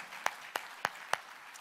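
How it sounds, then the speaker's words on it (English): Four evenly spaced hand claps ring out close by, followed by a fainter fifth, like one person slowly clapping. "Well, I'm going to applaud that one."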